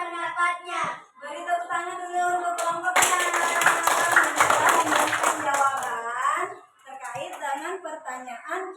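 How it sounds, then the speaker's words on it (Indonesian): Brief burst of classroom applause for a student group, with children clapping together loudly for a few seconds, surrounded by a teacher's speech before and after. "Beri tepuk tangan dulu untuk kelompok 6"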